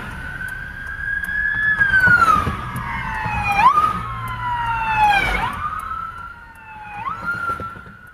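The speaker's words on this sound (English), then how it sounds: "You can see and hear those sirens blaring." Police sirens wail and yelp during a chase in San Jose, sweeping up and down in pitch repeatedly, loud and nearby with traffic rumble underneath.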